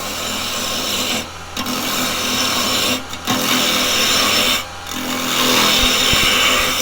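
A 1-inch spindle gouge cuts a small live-edge ash bowl on a wood lathe, giving a loud, close, continuous rasping scrape, broken by three short pauses as the tool lifts away.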